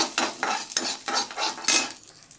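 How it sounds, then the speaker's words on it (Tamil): Urad dal is sautéed in a pan for a quick tomato-onion chutney, with rhythmic scraping stirs of a spoon over a crackling sizzle, loud and close in repeated strokes. "கொஞ்சோண்டு உளுத்தம் பருப்பு நல்லா போட்டு வதக்கிக்கோங்க."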